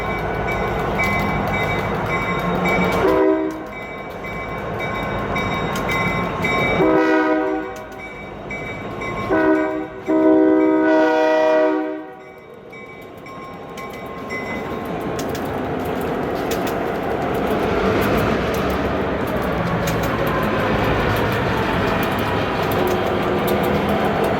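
Train horn blasts in several long sustained bursts over a rumbling locomotive engine as it couples onto train cars in a rail yard, followed by steady diesel idling and mechanical clanking.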